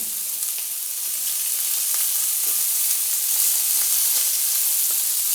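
Frikadellen meatballs sizzle steadily in a hot frying pan, a close, continuous crackle and hiss with scattered pops throughout.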